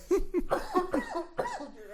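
Coughing straight into a podcast microphone during a Dota 2 chat, a handful of harsh, close bursts packed into two seconds.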